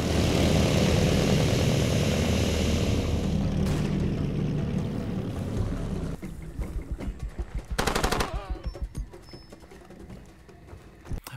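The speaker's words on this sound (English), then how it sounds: "my buddy came with a plane and dropped down, you know, chemicals, killing all green life in the mission location" Propeller aircraft in the video game Far Cry 2, a loud droning engine sweeping overhead amid bursts of gunfire and game sounds, fading and breaking into sharper impacts toward the end.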